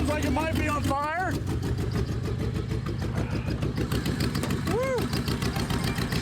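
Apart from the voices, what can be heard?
Lincoln 4x4 truck engine running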